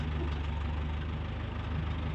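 A tractor engine idles nearby on a horse pasture, a steady low rumble with a faint rhythmic knock and no pauses.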